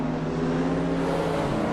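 A 1984 Ferrari 288 GT engine in a racing video game, a steady droning tone with a slowly rising pitch, heard close and alone for a brief moment.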